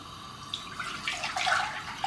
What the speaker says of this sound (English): So we'll put a pan on. Then we'll add our water.